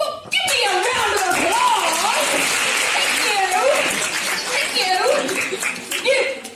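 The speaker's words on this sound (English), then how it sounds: "applause! Thank you!" Audience applause at a secondary-school English-language theatre show in Castelló: a dense, steady burst of clapping that fills the hall for several seconds, with voices calling and cheering over it before it tapers near the end.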